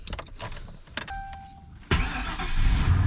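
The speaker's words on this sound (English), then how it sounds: "let me see if I can get this car to start" A V8 car is cranked after some clicks and small mechanical noises, then the engine catches at once and settles into a loud, rumbling idle.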